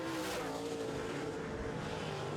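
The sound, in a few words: modified race cars racing around the track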